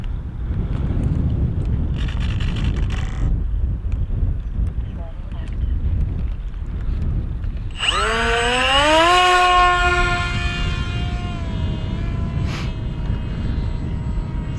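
A small FPV drone with a Matek F411-WSE flight controller flies in gusty wind, a buzzing motor drone under heavy wind rumble, with a rising whine of throttling motors midway.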